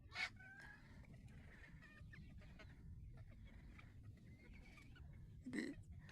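A rooster crows and clucks a few times on a goat farm against a steady farmyard background, with other fowl faintly audible nearby.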